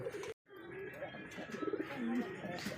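A pair of Shalik kokka pigeons coo softly and repeatedly in a loft, with a few light chirps, quiet and fairly close.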